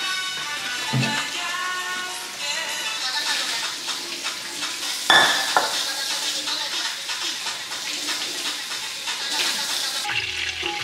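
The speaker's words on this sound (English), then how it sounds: "Cooking Italian meatballs." Italian meatballs sizzle and fry in a pan with a steady crackling hiss, broken by a few sharper clatters and scrapes of stirring, all close by with no talk.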